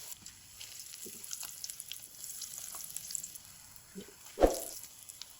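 Potato and bread snacks frying in a pan give a soft, steady sizzle throughout, with one brief clatter near the end.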